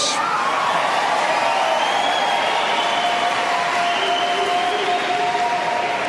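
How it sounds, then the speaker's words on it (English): Steady, dense applause from a large audience at a Republican presidential debate in Orlando, Florida, fills the whole stretch, with scattered cheers and whoops rising over the clapping. "Waiting for the applause, Speaker Gingrich"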